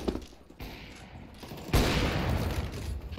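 Gunfire in the video game CSGO: a sharp burst near the middle gives way to a dense, sustained rattle of shots that runs to the end, with game noise beneath and no talk.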